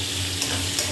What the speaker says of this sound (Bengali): আলু পেঁয়াজটাকে একটু লাল লাল করে ভাজা করে নেব।